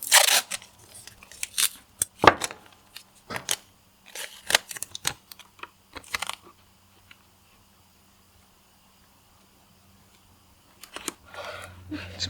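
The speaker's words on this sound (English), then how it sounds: "Let me tape it real quick." Tape crackles and snaps as it is pulled and pressed onto a sketchbook page during a painting session, a series of close, sharp crinkling bursts with a quiet stretch before a few more at the end.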